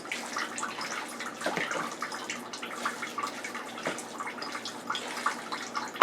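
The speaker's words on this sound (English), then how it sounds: "Oh, water's running." Water runs from a kitchen tap in a steady, moderately close stream, splashing and trickling alone for several seconds while stuffing is prepared.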